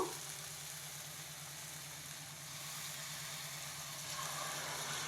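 Tamarind juice poured into a pan of frying masala and onions for Nellore fish curry, giving a steady, quiet sizzle and hiss throughout with a low hum underneath.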